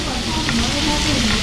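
Raw beef and rice sizzling loudly in a scorching hot stone pot at a Taiwan restaurant while being stirred, a close, constant crackling hiss with faint scraping and a little background talk.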